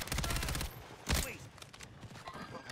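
Gunfire in Call of Duty: Warzone: a rapid volley of shots at the start, then a single sharp blast, with fainter scattered shots trailing off afterward.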